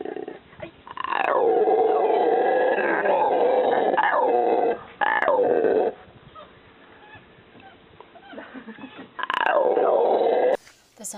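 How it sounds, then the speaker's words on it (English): Deep, roaring howler monkey calls at Cockscomb Jaguar Reserve in Belize swell and fade in long bursts, loud and resonant, with quieter gaps between. "The sounds you just heard are howler monkeys that live in Coxcomb Jaguar Reserve."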